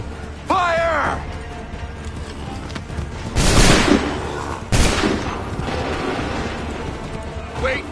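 Musket volleys fire in the Assassin's Creed 3 video game, two loud booming cracks a second or so apart over a murky battlefield din, with shouted commands heard beforehand.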